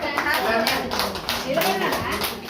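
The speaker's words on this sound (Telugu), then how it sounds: "క్లాప్ చేయండి క్లాప్ అందరూ" A group of children claps hands together in quick, uneven bursts, close by, with voices talking over the clapping.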